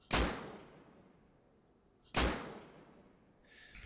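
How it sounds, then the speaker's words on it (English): Two loud video game gunshots in Rust a couple of seconds apart, each trailing off in a long, echoing decay, with faint clinks between. "So the gunshots itself don't sound that much different, but the like echoey sounds afterwards sounds a lot better"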